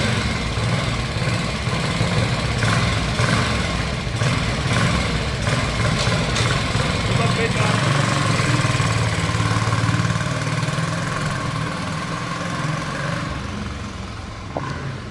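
1967 Harley Davidson Sprint motorcycle engine idling nearby, a steady, loud putter with a rough, even rhythm throughout.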